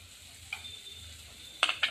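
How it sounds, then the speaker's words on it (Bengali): Turmeric and chili powder fry in a pan for crab curry, giving a soft steady sizzle with a few sharp stirring scrapes toward the end, close and brief. "দিয়ে ভালো করে কষে নেব।"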